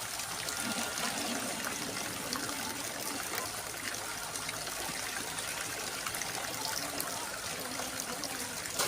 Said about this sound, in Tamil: 20 லிட்டர் தண்ணி ஊற்றிக்கலாம்.